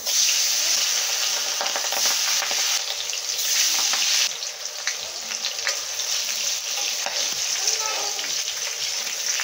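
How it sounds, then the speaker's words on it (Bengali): Pabda fish frying in hot oil, a loud, steady sizzle that runs the whole time with occasional crackles and pops, close up and without talk. "তেলটা গরম হয়ে গেছে, মাছগুলো ভেজে নেব।"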